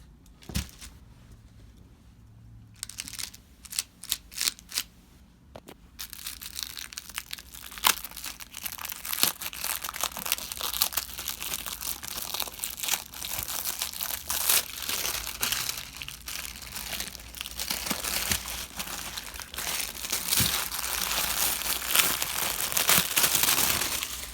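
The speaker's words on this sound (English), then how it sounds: "I'm going to see if I can't get this out of this wrap one-handedly" Plastic shrink wrap crinkles and tears close up as it is pulled off a boxed Bible, starting with a few sharp rustles and building into continuous, noisy crackling and ripping.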